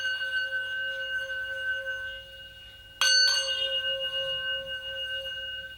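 A small, steep-sided antique singing bowl hums with a sustained bell-like ring of clear steady tones, then is struck again with a bright attack and rings on.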